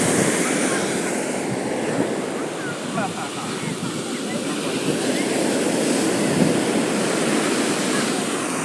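Sea surf breaking on a beach fills the scene with a steady, loud wash of waves and wind buffeting, continuous throughout with no clear voices on top.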